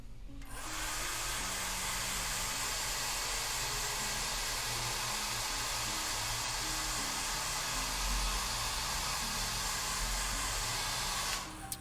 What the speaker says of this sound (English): We're gonna take our trusty hair dryer.